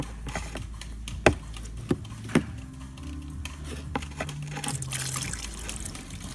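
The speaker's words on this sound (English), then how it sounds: "Get that muddy water out." Muddy water drains from a blocked roof drain on a BMW E85 Z4, trickling and dribbling quietly with a few sharp drips and knocks, then a brief, stronger gush near the end.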